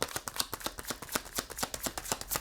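A deck of tarot cards being shuffled, giving a fast run of crisp, papery riffles and slaps in an uneven rhythm, close and fairly quiet, with no voices.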